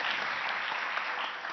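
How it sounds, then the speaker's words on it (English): An auditorium audience applauding at a teach-in event, a dense, steady wash of clapping hands that holds at an even loudness throughout. "You can give him a round of applause."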